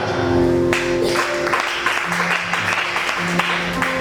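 A church congregation applauding and acclaiming God, loud clapping that comes in bursts over sustained musical tones.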